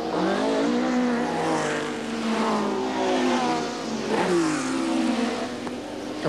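Rallycross cars racing at Kirkistown in 1987, a 3.3-litre 380 bhp Porsche battling a Chevette, engines revving loudly and continuously with rising and falling pitch as they accelerate and shift.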